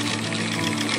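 An industrial sewing machine runs in one steady, loud, close buzz while stitching tape onto a MOLLE panel, with a constant hum and no pauses or talk.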